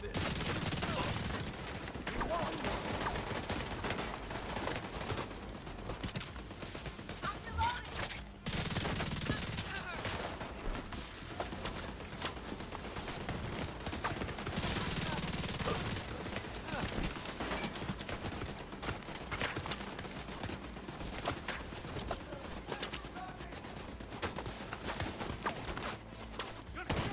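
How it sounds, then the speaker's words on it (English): Sustained gunfire from The Division 2, including a turret firing, rattles in dense continuous bursts close up for nearly the whole stretch, with a brief break partway through. "Ah, what's shooting at me so hard, man?"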